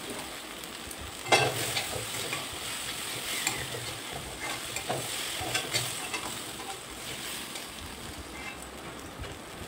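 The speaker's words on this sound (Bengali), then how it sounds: "লঙ্কার গুঁড়ি দিয়ে খানিকক্ষণ একটু নেড়ে নেব।" Onion paste and chili powder frying in a pan while being stirred, a soft continuous sizzle with repeated scraping stirs close by, no talk.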